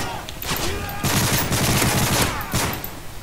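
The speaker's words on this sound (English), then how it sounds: "This gun doesn't have any recoil. Just watch." Gunfire in the Call of Duty MW3 video game comes in loud, fast automatic bursts, with a short gap near the middle, and brief talk underneath.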